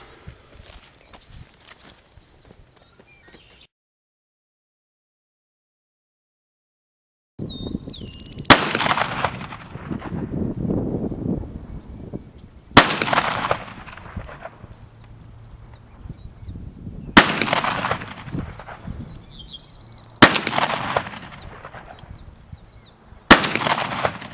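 Remington 11-87 shotgun firing Winchester sabot slugs at 50 yards outdoors, five loud sharp blasts spaced a few seconds apart, each with a rolling echo tail, after a quiet lead-in with no talking.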